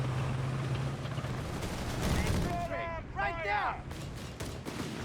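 Luftwaffe strafing run in Company of Heroes 3, a rapid burst of gunfire and diving aircraft noise amid battlefield rumble, with a voice talking over it.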